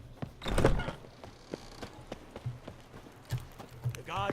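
Horse hooves clip-clop in The Witcher 3, a series of sharp, uneven knocks spread across several seconds, with a brief muffled voice-like burst near the start and another near the end.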